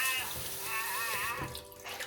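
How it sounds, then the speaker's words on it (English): Water poured out of a pot of cooked collard greens, a steady splashing, gurgling stream close by, running continuously for a couple of seconds without talk. "Let some of this water on out of here now."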